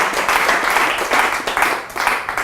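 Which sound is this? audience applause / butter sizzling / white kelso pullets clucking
audience applause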